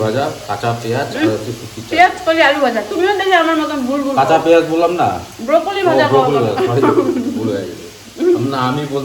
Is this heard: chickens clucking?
no